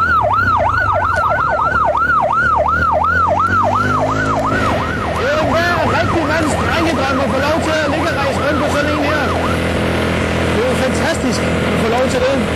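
A small Firexpress fire engine sounds its siren on the Danish island of Bjørnø, loud and close, with a steady rising and falling wail that shifts into faster overlapping cycles.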